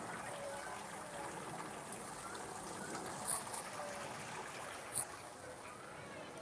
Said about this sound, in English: this nice waterway that runs here comes from this little waterfall here